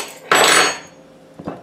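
Donut mixture spooned into a baking pan, a sharp metallic scrape of a spoon against the pan followed by a couple of lighter taps, close and brief.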